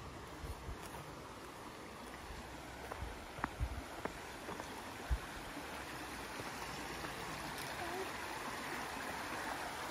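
A waterfall and flowing stream make a soft, steady rush of water throughout, heard from some distance at low volume. A few faint, brief knocks rise above it.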